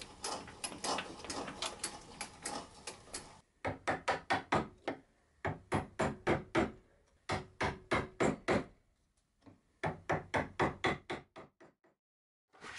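A workbench's wooden upper stretchers get shallow mortises, with bursts of rapid, close, repeated striking or chopping strokes separated by short pauses and a few brief silences.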